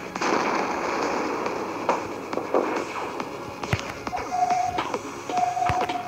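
Gunfire and impacts from the space combat video game Event Horizon, a dense run of sharp cracks and bursts over a constant busy roar, with a steady tone sounding briefly near the end.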